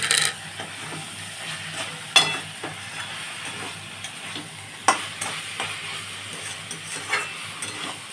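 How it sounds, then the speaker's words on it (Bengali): Drumstick leaves with brinjal and green chilli fry in a pan with a soft continuous sizzle, punctuated by sharp clinks and scrapes of a spatula stirring against the metal every second or two. "শাকটা ভাজা হয়ে গেছে, এবার আমি নামাবো।"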